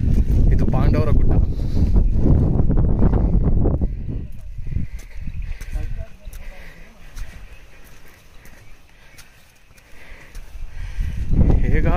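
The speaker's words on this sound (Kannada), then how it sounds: "ತುಂಬಾ ಮಳೆ, ತುಂಬಾ ಗಾಳಿ, ನನ್ನ ಛತ್ರಿ ಹಾರಾಗ್ತದೆ." Strong wind roars and buffets the microphone during a rainy hill trek at Pandavara Gudda near Sakleshpura, loud and continuous, easing midway and surging again at the end, with muffled voices mixed in.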